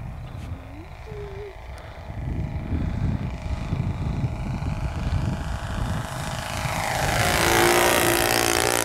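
A HappyTime 1.5 m RC trainer plane with a Thunder Tiger 54 four-stroke glow engine drones overhead, its buzzing note swelling louder as it makes a close pass near the end, with wind buffeting the microphone.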